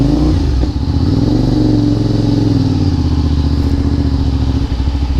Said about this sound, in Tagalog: unang biyahe sa motor natin